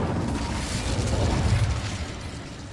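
An Incendio fire spell in the Hogwarts video game roars as a steady, dense whoosh of flame, loud and close, fading slightly at the end with no voices over it.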